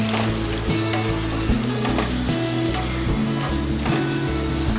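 Half a kilo of cleaned prawns hit hot oil in a pan and sizzle steadily, a dense continuous crackle with occasional stirring scrapes, close and loud throughout.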